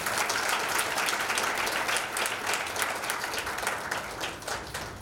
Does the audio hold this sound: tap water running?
no